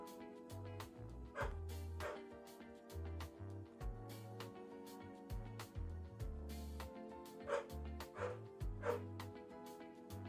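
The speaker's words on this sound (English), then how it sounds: "That's my dog in the back, if y'all hear barking." A dog barks repeatedly in quick, uneven bursts, somewhat distant and moderately quiet, with a low tonal hum running underneath.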